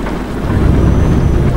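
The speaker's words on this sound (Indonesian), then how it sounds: "Soalnya hujan licin." Steady, dense rain hisses and rumbles around a car driving at night on a winding, slippery road, a continuous wash of noise with no voices.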